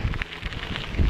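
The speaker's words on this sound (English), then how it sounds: "it's a bit windy" Brief gusts of wind buffet the microphone outdoors on a forest fire road, a rough, close rumble with rustling that swells near the end.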